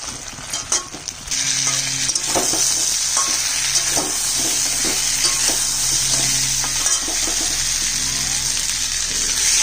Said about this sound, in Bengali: একে একে সমস্ত সবজিগুলো দিয়ে দিচ্ছি।